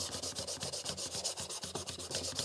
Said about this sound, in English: And now I am going to take my 400 grit sandpaper and do the top of it.